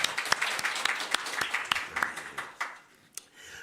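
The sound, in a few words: congregation applauding in church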